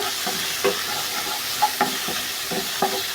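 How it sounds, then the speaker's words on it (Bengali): Onions frying in a pan with garlic for vegetable rolls, a steady close sizzle punctuated by regular scraping strokes of a spatula as they are stirred, with no talking. "এখন আমি দিয়ে দেব পেঁয়াজ পেঁয়াজগুলো এখন আমি ভালো করে"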